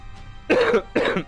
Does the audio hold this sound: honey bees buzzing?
no